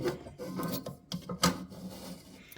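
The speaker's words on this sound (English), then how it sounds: "Now we will ream out the rest of the holes with this 3-1." Drill press reaming out holes in an E. Ingraham mantel clock plate, a few short rasping, scraping bursts with mechanical rubbing, close and moderately loud.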